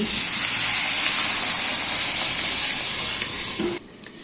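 Water poured into a pan over spiced winter vegetables, a loud steady rushing hiss and splash lasting several seconds before cutting off abruptly.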